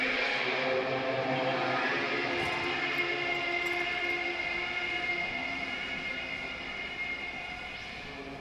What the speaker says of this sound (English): A Caprice Canema motor carriage.